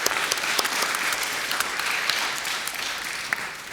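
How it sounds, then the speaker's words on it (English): A panel discussion audience at a peace forum in Oslo breaks into steady applause, close and full, with a few sharper individual claps standing out through the whole stretch. "Maybe an applause for..."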